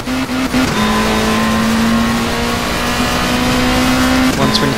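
A touring race car in World Touring Car Championship racing accelerates out of corners, its engine note climbing in a steady rising whine over a few seconds before dropping and repeating, loud and close with no talk.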